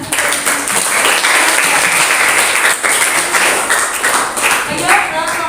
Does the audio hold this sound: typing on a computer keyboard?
no